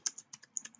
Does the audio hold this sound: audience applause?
no